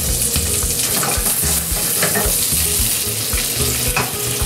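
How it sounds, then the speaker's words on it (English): Food searing in a hot pan with hazelnuts about to join it, giving a loud, steady, dense sizzle with faint crackles throughout and no talking. "Getting some nice sear on that."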